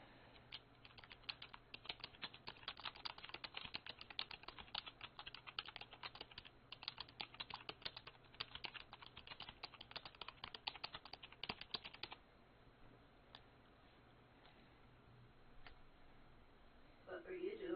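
Rapid clatter of a computer keyboard being typed on, close and steady for about twelve seconds before it stops and only faint room noise remains.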